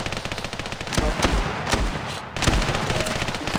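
Rapid gunfire bursts in a shooter video game, Standoff 2, sharp repeated shots crackling in quick volleys with brief pauses between, loud and close.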